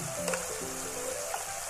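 Spices sizzling in hot oil for maash daal, a steady soft frying hiss with faint scrapes of stirring, fairly quiet and close.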